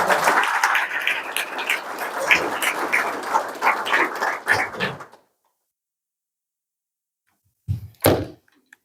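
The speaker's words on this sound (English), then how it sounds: "A round of applause." At an April 2023 SAGDA graduation ceremony, the audience gives a dense round of applause lasting about five seconds, then cuts to silence, followed by a couple of knocks or thuds.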